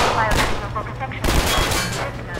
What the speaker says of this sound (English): I freaking shot him in the crotch.